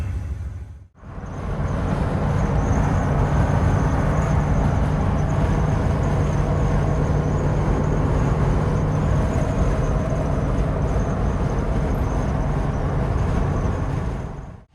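An LS-swapped Nissan Patrol cruises on the road with a continuous loud rumble of engine and road noise, steady from start to finish after a brief dip at the beginning, with no talk.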